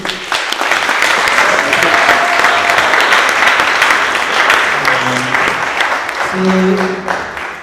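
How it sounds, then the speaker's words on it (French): Sustained applause from a conference audience honouring an event organiser, steady dense clapping that fills the room for several seconds, with a few faint voices underneath. "J'aimerais qu'on l'applaudisse, s'il vous plaît."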